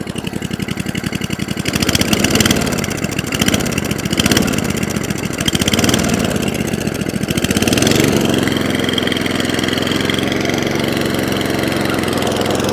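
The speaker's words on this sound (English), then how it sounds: "for a mower that wasn't driving, it certainly is now" An Atco Balmoral cylinder lawn mower engine runs steadily and loud for the whole stretch, with a rougher, busier patch early on that settles into an even idle-like drone after about eight seconds.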